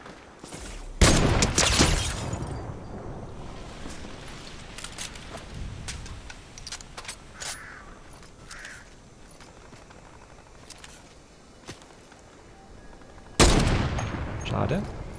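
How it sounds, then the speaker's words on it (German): Gunfire in Fortnite: a loud burst of shots at the start, then scattered single cracks and distant pops, and a final close burst near the end. "In der Richtung wird geschossen."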